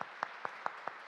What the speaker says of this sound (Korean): 우리 박수로 한번 기념하겠습니다.